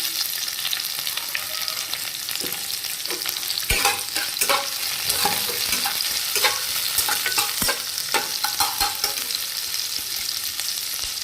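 Onions frying in a pan for aloo dum, a loud steady sizzle with repeated spatula scrapes and clatters as they are stirred, close and without talk.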